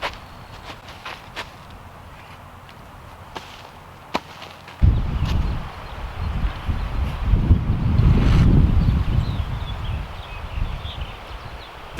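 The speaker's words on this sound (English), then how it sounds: "Did I mention that it's windy today?" Wind gusts outdoors during blackberry planting, quiet at first, then a sudden heavy rumble of wind buffeting the microphone that lasts to the end.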